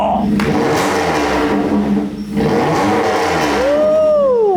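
Mazda MX-5 with valved exhaust open revs hard and loud, rising and falling in sharp bursts, with a whistle sweeping up near the end.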